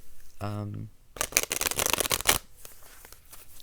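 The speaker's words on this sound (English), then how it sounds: "they shuffle pretty well." Tarot cards shuffled in a lap, a quick riffle with a fluttering burr followed by a dense, crackling run of card slaps lasting about a second, fairly close, with a faint rustle afterward.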